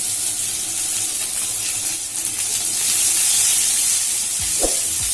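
Chopped onion and slit green chilies frying in hot oil, a steady loud sizzle and hiss with occasional scraping as they are stirred in the pan.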